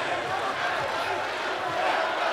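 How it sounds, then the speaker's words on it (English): Arena crowd roaring steadily at a wrestling world championship final between Mate Nemes of Serbia and Mohammadreza Geraei of Iran, a dense continuous wash of cheering and shouting with no gaps. "listen to the crowd"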